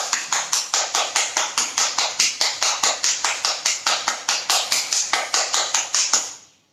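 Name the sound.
hands clapping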